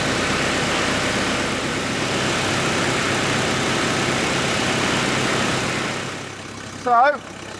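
A car engine idles steadily and fairly loudly close by during a check for exhaust leaks, a constant rumble that fades near the end before a brief burst of other sound.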